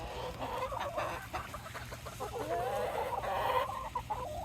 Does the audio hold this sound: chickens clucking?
yes